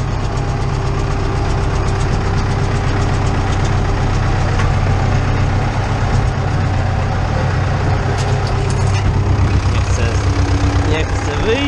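A tractor engine runs steadily up close with a loaded fertilizer spreader attached, in a field being prepared for oats and barley. The rumble stays constant and loud the whole time.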